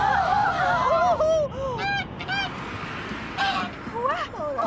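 Cartoon goose honking repeatedly in loud, nasal bursts, a rapid cluster at the start and more calls spaced through the rest, over a busy background.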